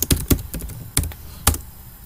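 Computer keyboard keys clack sharply and close up as a search is typed, a few quick strokes followed by spaced single taps, with no talking.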